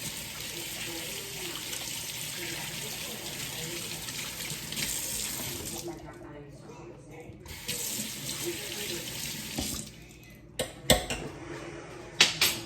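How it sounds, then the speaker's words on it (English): Hands washed under a running kitchen tap, a continuous rush of water that cuts off briefly, then resumes with a few clinks and knocks as it ends. "I'm gonna wash my hands and then we'll pretty much go from there."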